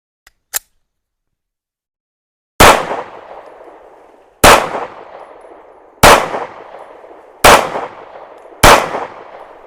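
Five pistol shots at about 5 yards during an accuracy test, each a loud sharp crack with a ringing tail, spaced roughly one and a half seconds apart after a couple of faint clicks.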